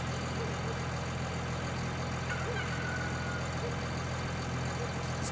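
A large tractor engine in Farming Simulator 19 idles in a steady, loud, unbroken drone with a constant low hum throughout.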